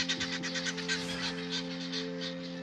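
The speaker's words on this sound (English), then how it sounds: "the geese." Geese honk repeatedly in a rapid, overlapping series on an English country outing, moderately close, layered over a steady low mechanical hum with no talking.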